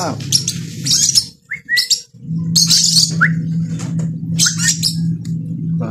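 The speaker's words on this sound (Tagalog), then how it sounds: "Lovers bird. Ibon na naman." Bright, high bird chirps and short squawks in scattered bursts over a steady low hum, with a few brief pauses between calls.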